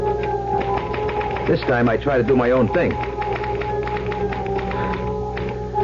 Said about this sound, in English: I had to get back to that infernal machine.